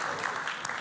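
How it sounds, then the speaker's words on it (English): A church congregation claps through a short stretch of steady applause, a dense broadband patter with no voices standing out. "give them a round of applause"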